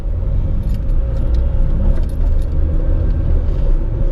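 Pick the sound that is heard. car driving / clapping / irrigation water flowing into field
car driving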